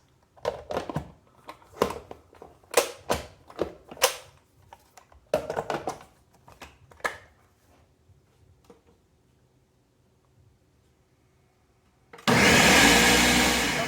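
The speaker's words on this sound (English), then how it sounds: "so let's blend this stuff up. Get ready for the loud noise" A blender purees tomato soup in a loud, dense whir that bursts in near the end after a stretch of quieter kitchen handling sounds, running strong through to the cut.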